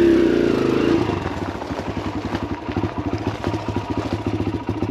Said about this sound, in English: Let's fire this bad machine up. Nice and quiet. She's still carbureted.